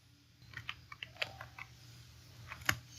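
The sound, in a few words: typing a formula on a computer keyboard in Excel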